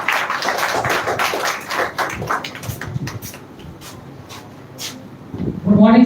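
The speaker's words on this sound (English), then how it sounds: "give a big round of applause for him" Applause from a crowd, a dense patter of many hands clapping that fades toward the end before a voice cuts in.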